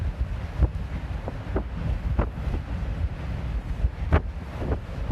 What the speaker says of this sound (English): I've got something over the end trying to mute the wind noise a little bit